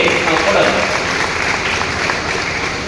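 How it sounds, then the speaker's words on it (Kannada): A crowd at a Kannada literary award ceremony applauds an honoured person, a loud, unbroken roar of clapping filling the space with murmuring voices blended into it. "ದೊಡ್ಡ ಚಪ್ಪಾಳೆಯನ್ನ ಆ ವ್ಯಕ್ತಿಗೆ ನಾವು ಕೊಡೋದು"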